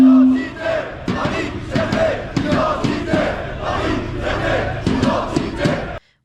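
A large crowd at a patriotic march in Paris chants and shouts together in loud, rhythmic bursts, with cheering voices rising and falling close by before cutting off abruptly.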